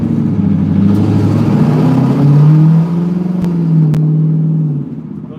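A deep, throaty stock 392 V8 with the catback exhaust removed rumbles close by, revving up and settling back with a loud, burbling exhaust note, no talking.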